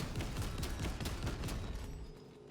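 Brief rapid volley from a Combi-Melta gun in a video game, a quick run of close, punchy shots that cuts off and fades after about two seconds.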